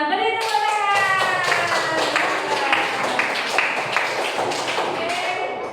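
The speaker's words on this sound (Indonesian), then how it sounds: "Beri tepuk tangan." A classroom of students claps hands together in a quick, rhythmic burst, the claps tapping steadily throughout while young voices call out over them.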